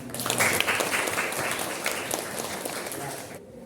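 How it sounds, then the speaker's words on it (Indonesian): Students in a classroom clap together in a short burst of applause, moderately loud and dense at first, then settling into a steadier patter before stopping abruptly near the end. "Kita berikan tepuk tangan."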